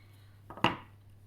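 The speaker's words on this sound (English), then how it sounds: "Pulling the wire out to the side so we can get in and trim that excess wire off." Excess jewellery wire on a bead bracelet gets trimmed: one small metallic snip, sharp and close, with a soft click just before it against a steady low hum.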